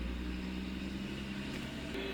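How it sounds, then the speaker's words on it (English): A garbage truck passes outside on an overcast, rainy day, a steady low engine rumble holding throughout with a slight rise near the end, no talk over it. "There's a garbage truck driving by."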